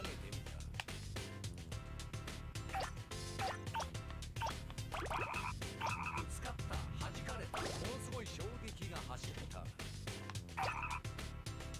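Frogs croak in the PlayStation 2 game Katamari Damacy, the calls set against steady, busy game music that runs through the whole stretch.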